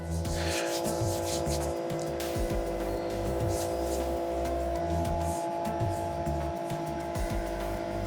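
A Henkelman vacuum packing machine with an external vacuum adapter pulls vacuum on a pan of salmon in brine, giving a loud, steady pump drone with a throbbing low rhythm throughout.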